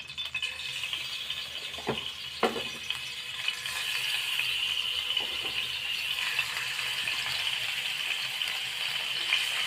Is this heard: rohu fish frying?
yes